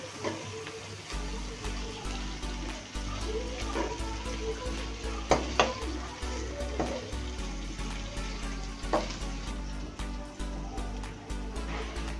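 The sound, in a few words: mutton frying and being stirred in a pan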